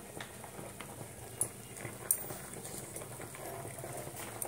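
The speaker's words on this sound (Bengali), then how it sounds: "এবারে সর্ষে তেল দিচ্ছি" Mustard oil heats in a hot wok (kadai), giving a soft continuous sizzle and crackle with a few sharper pops, steady and fairly faint.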